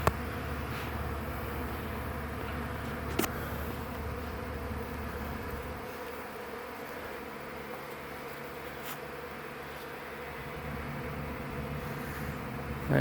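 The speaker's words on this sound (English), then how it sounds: "it's the most bees in an area I've ever seen." A large honeybee swarm gathering and balling up outdoors gives a steady, dense buzzing drone throughout, close and continuous, with a couple of brief clicks and no talking.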